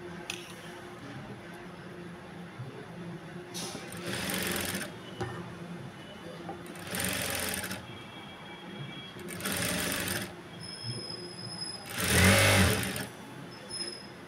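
A sewing machine stitches a Punjabi dress top in four short, separate runs a few seconds apart, close and steady against a quiet room hum.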